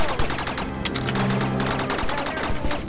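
Rapid automatic gunfire in the Rec Room video game, dense overlapping loud bursts of shots with short pauses, a voice briefly audible beneath.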